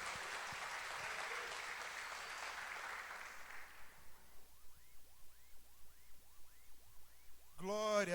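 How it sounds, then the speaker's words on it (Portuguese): A church congregation at a worship service claps in a broad wash of applause, which fades out partway through and gives way to quieter sounds before a brief louder burst at the end. "Uma salva de palmas mais forte, mais bonito."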